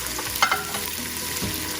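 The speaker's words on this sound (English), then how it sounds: "That's the sound of sizzling biryani coming through." Paneer biryani sizzles and crackles steadily in a hot pan, with a couple of brief louder bursts as it is stirred; no voices.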